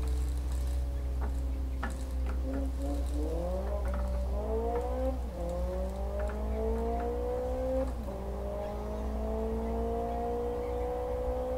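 Car engine in a racing sim game driven by keyboard, a steady engine drone rising and falling in pitch as it revs up through gears, with a constant low hum underneath and no talking.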